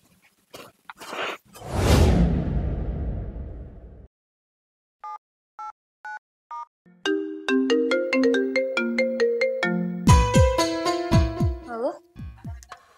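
A mobile phone rings with a melodic ringtone for an incoming call, short beeping tones first, then a loud repeating tune of bright notes building over several seconds after a brief whooshing sound effect.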